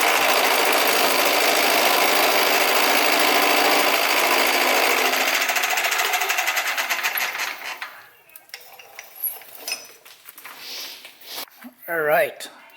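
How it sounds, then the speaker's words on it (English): A metal lathe tapers a throttle body adapter for a Vortec 4200 engine swap into a Volvo, making a loud, steady whirring grind for about eight seconds before spinning down into quieter clinks and scrapes. "So I'll probably use the lathe to try to taper that out a little bit."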